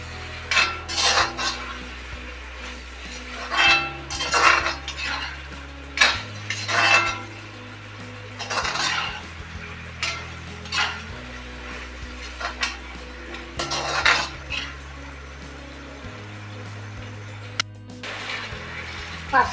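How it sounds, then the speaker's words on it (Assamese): Mutton frying in a pan is stirred with a metal spoon, repeated close scraping and clinks against the pan at an uneven rhythm over a steady low hum. "মই মাংসখিনি লৰাইছোঁ"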